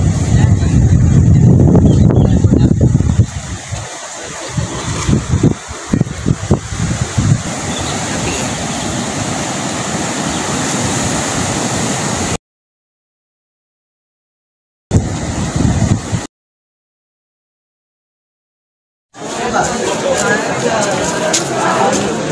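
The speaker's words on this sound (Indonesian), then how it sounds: "Anginnya kenceng banget di sini" Strong wind buffets the open coast at Labuan Bajo near Komodo Island, Indonesia, a loud roaring rush with a nearby voice talking over it, broken by sudden cuts to silence.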